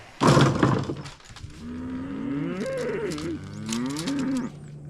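Cows mooing after calf weaning, several long wavering moos from close by, one after another, with a loud clanging knock at the start and a steady low background hum.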